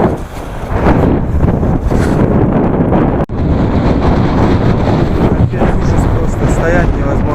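Strong wind buffets the microphone in a loud, continuous roar with gusty swells and one brief dropout, heard outdoors on a road in Gansu, China, with no voices.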